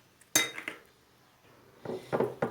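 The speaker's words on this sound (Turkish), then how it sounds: "2 tane de yumurta kırıyoruz." Two eggs cracked into a bowl for a potato and onion börek: a sharp crack against the rim, a short gap, then a cluster of tapping and clinking knocks near the end, close and clear.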